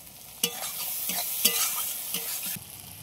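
Poppy seed paste is added to masala frying in a pan for katla fish curry, giving a bright, loud sizzle broken by several sharp spatula scrapes about every half second, close and with no speech.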